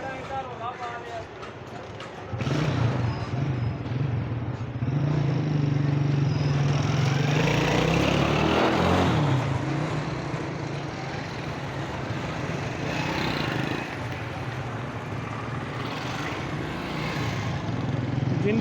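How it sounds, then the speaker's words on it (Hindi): Road traffic passing beside a roadside, a continuous rumbling wash of engines and tires that swells as vehicles go by, with someone talking over it. "अब मैं ये रोड पे खड़े होकर वीडियो बना रहा हूँ, तो आपको शोर शराबा तो बहुत आ रहा होगा"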